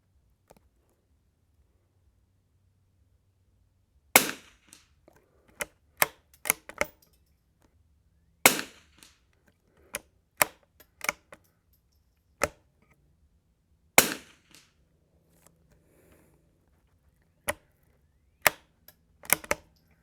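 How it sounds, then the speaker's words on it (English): Shots from a Savage Anschutz 54 Sporter rifle fired at a 100-yard range: sharp, isolated cracks in an irregular string against a near-silent background, with a few fainter ticks between them. "I shoot 5 each and every time to kind of lay the lube down, lay the lead back down in a freshly cleaned rifle"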